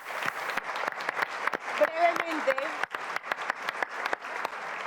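Audience applause at a panel event marking 25 years of the Panama Canal in Panamanian hands, a steady, moderately distant patter of many hands with a brief voice heard under the clapping in the middle.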